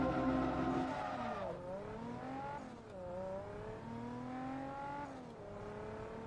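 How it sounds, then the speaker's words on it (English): Nissan Fairlady race car engine in Forza Motorsport 2, a loud, steady high-revving drone that drops and climbs through gear shifts, with faint tire squeal, at Sebring. "What an engine."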